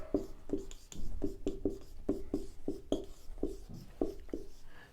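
A pen scratches across paper in short, rhythmic strokes, close and distinct, with a steady pattern of taps and scrapes while a list is written out by hand.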